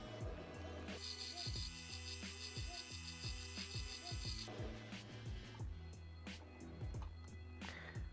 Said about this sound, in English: getting that backing off onto a spool here